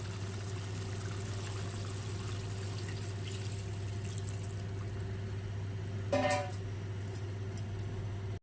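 A brief splash of water being poured into a pan of cooking chicken curry, heard over a steady low hum and a sizzling background.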